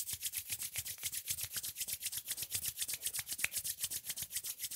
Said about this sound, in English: begin to vigorously rub your hands, creating heat